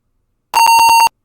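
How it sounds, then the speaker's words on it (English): A computer in a VMware virtual machine sounds a single short electronic beep at startup while Windows 1.0 installs, a clean steady tone of about half a second, loud and alone against silence. "it was the one small beep that's meant to happen instead of apoplexy of Windows"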